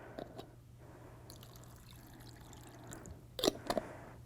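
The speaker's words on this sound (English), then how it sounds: "So I'm going to go ahead and add more water." Water is poured onto soaked scrap construction paper, soft trickling and splashing in the near field, with a few sharper splashes toward the end.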